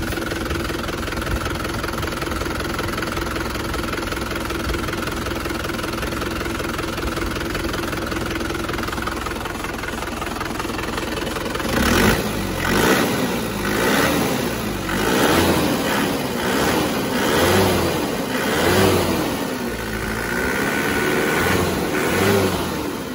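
A car engine fresh from a rebuild idles steadily with a faint knock, then revs up and down repeatedly in rising and falling swells, loud and close with no talking.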